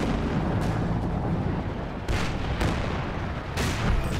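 Heavy in-game gunfire and booming impacts from anti-tank guns in Company of Heroes 2, several loud blasts spaced a second or so apart over a constant rumble of battle.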